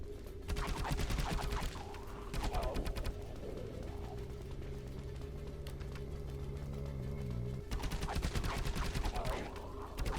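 Impaler harpoon gun fired repeatedly in the Dead Frontier video game, in bursts of rapid mechanical shots separated by short pauses, with a steady game hum and a low droning tone running underneath.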